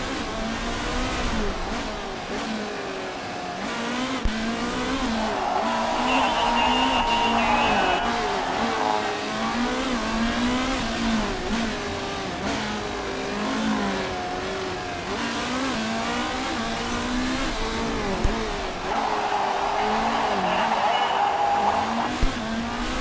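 Race cars lap a circuit in the Motorsport Manager video game, a continuous droning engine whine rising and falling in pitch as cars pass, with a voice talking over it throughout.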